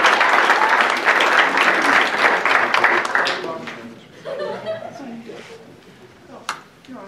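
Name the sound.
applause from parents in an audience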